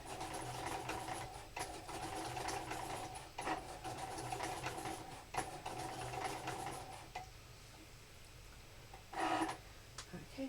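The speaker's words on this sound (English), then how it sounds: "Now the Cricut branded felt you can cut on any of the machines" A Cricut cutting machine cuts Cricut-branded felt with a quiet, steady mechanical whir and a faint rhythmic buzz, joined by a brief louder motor burst near the end.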